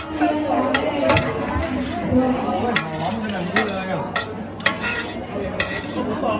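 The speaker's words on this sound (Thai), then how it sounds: "ใส่ น้ำมะขามเปียกที่เคี่ยวจนงวดเหลือแต่เนื้อมะขามแล้วผัดไปพร้อมกับน้ำ" Thai chili paste stir-fried with reduced tamarind water in a pan: continuous sizzling and frying with repeated spatula scrapes and clinks, close up, while someone talks over it.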